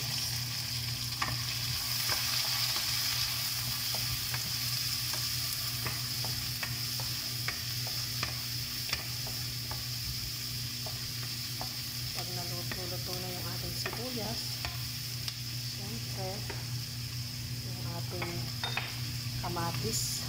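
Onions sauté in a pan with golden brown garlic for chicken afritada, a continuous sizzle under repeated light scraping stirs and utensil taps, with no talk.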